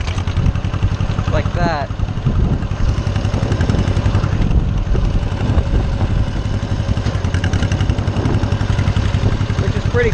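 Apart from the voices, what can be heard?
small tractor running with PTO switched on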